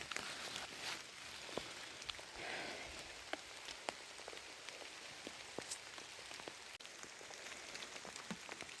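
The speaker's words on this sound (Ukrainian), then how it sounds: "Дощик такий рясний, що не знаю, як буду знімати." Steady rain patters densely on surfaces nearby, with scattered sharper drops striking close by throughout.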